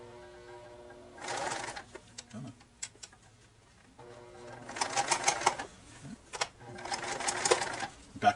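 A sewing machine stitches a seam on a cushion for a toy box seat, running in three separate whirring bursts broken by short pauses and small clicks, close and fairly quiet.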